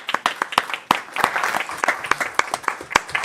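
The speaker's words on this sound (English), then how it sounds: "I really want to applaud you guys" Scattered applause at a city commission meeting, a few dozen hands clapping unevenly close by for a short burst, with no talking over it.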